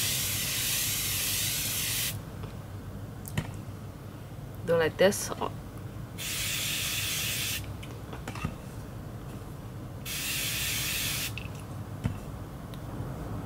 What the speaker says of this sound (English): Then I will spray some maybe spring water, blah blah blah water, any type of water.